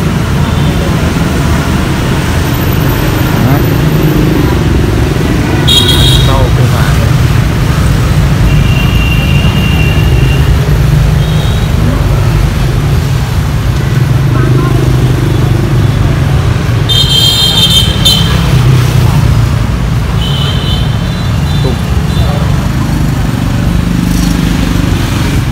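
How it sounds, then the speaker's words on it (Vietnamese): Loud, continuous street traffic at the Hoang Hoa Tham market in Hanoi, a dense rumble of motorbikes and cars passing close by, with a few sharp horn beeps cutting through and people talking underneath. "Ở đây ồn ào lắm, phố mà ồn lắm, xe cộ tấp nập"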